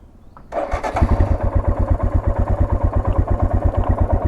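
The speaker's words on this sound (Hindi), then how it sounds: "ओके, तो अभी आपने बाइक स्टार्ट कर ली है।" A geared motorcycle engine cranks and fires up after a brief quiet moment, then settles into a steady, loud, rhythmic idle thumping close by.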